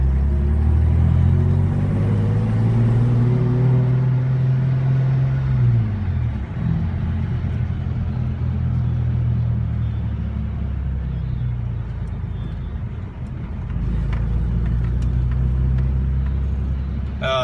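Lifted Toyota Tacoma 4x4 custom-build truck driving, with a steady loud engine rumble from inside the cab, revs dropping around a gear change midway before building again, no talking.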